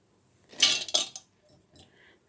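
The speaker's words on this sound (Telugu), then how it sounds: "ఇప్పుడు ఇవన్నీ మిక్సీ జార్లో వేస్తున్నానండి" Soaked moong dal and spices tipped into a mixer jar make a brief cluster of clinks and rattles from the spoon and jar, then a few fainter taps, close and alone.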